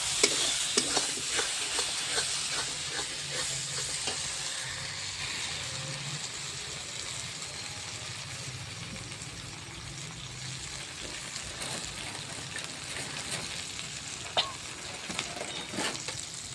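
Masala spices sizzle and fry steadily in hot oil in a pan, with frequent scraping and clinking of a spoon as the mixture is stirred, a continuous close crackle over the whole stretch.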